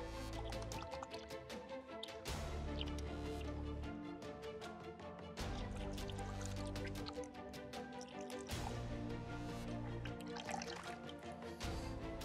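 A tin of evaporated milk is poured into a bucket of water, a steady liquid glug and splash broken by brief pauses and restarts, close and quiet.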